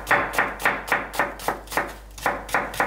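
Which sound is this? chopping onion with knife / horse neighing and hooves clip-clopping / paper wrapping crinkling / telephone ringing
chopping onion with knife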